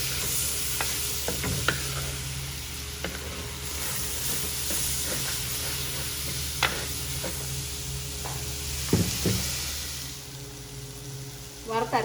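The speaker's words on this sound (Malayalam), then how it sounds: "ഇതിലേക്ക് ചെറുതായിട്ട് അരിഞ്ഞ് വെച്ചിരിക്കുന്ന തക്കാളിക്ക് ചേർക്കാം." Chopped tomatoes hit a hot pan of browned onions for a Kerala chicken curry, with a steady sizzle throughout and scattered sharp scrapes and clinks of a spoon stirring, close and moderately loud.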